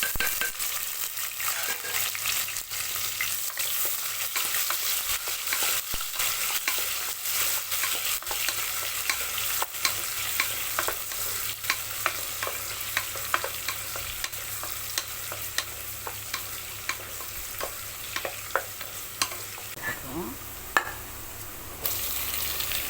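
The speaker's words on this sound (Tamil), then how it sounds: "இதில் கொஞ்சம் லைட்டாக பொருளாக போகும் ஆனியன் போட்டுடலாம்" Onion with garlic frying in a pan while being stirred, a steady close sizzle with irregular scraping and clinking strokes throughout, no talking.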